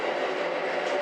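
A JR Hokkaido diesel train passes close by as a brief, steady rumbling wash of rail noise.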